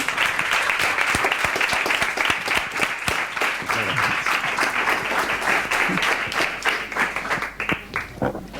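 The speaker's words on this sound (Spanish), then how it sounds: "Un aplauso para Eduardo, que lo ha conseguido." An audience claps steadily for about eight seconds after a person is congratulated, dense applause throughout that thins slightly toward the end.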